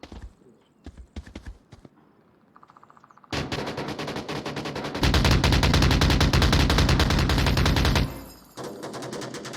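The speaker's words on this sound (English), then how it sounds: "Lots and lots of free fire from various positions coming out onto the attackers." Rapid automatic gunfire erupts in the VR shooter Onward during a competitive match, starting with sparse shots, then dense sustained bursts from several positions that build into a loud, continuous barrage before easing off.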